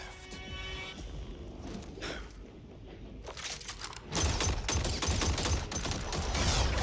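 Automatic gunfire in the fighting video game Mortal Kombat 11, a dense rapid volley that bursts in loudly partway through and keeps rattling over a steady game soundtrack.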